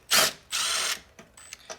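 A rusty bolt being drawn out of an engine head with a power tool, two loud whirring bursts followed by fainter clicks and short mechanical rattles, close by with no talk.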